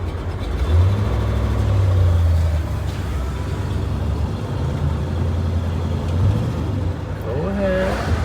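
A 1972 Chevrolet Chevelle 454 SS V8 running while driving on the road, a loud low engine drone with brief revving swells and a steady rumble, with a voice speaking over it.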